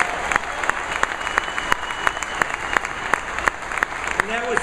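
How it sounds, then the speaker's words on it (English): Audience applause at a Ford Rawsonville plant electrification announcement, a steady rattle of many hands with sharper close claps on top and some crowd voices mixed in. "Let's give him a big round of applause"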